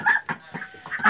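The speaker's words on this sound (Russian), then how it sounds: "Из уток крякающих у меня осталось вот 4 штучки" Four domestic ducks quack in a yard outside at night in the rain, a handful of short, nasal calls in quick succession, close and fairly loud.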